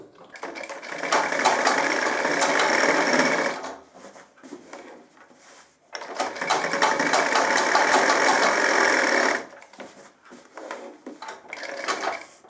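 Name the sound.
sewing machine stitching trouser pocket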